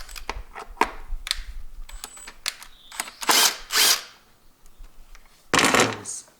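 A box socket wrench works a bolt loose on a Mercedes OM651 diesel engine, giving close, sharp metallic clicks and ratcheting scrapes in irregular bursts, with a few louder rasping turns.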